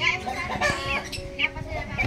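Broiler chickens clucking nearby in short, irregular bursts, mixed with children's voices and people talking in the background.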